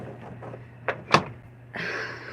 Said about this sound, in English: We have French doors for our bathroom.